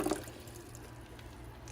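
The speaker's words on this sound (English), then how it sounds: "open this up, and put more water inside of here" Water poured into the reservoir of a countertop nugget ice maker, a short splash and trickle at the start that fades into soft dripping and low background hum.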